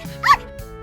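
A toy dog gives a single short yip or bark, brief and moderately loud, in a quiet indoor play setting.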